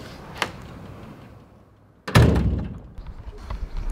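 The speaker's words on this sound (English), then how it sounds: "Could be the last time we close these doors." Narrowboat doors being closed: a light knock, then a heavy wooden thud that rings briefly, followed by rattling handling noises, close by.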